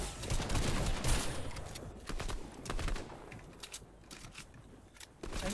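Gunfire in the battle royale game Fortnite, with rapid, dense bursts of shots and crackling impacts running almost continuously, fairly loud.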